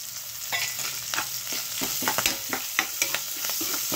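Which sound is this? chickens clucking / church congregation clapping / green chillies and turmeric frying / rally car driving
green chillies and turmeric frying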